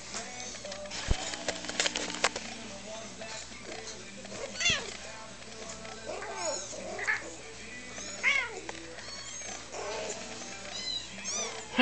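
A Birman mother cat meows repeatedly, loud and close, calling her kittens, with mechanical whirring and clattering in the background and people talking intermittently.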